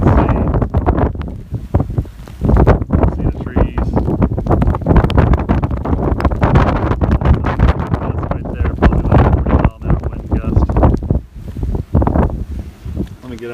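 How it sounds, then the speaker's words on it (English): Strong gusting wind from Hurricane Harvey roars through trees and whistles on power lines, buffeting the microphone loudly and unevenly throughout. "it's not terribly windy, but it's definitely quite windy"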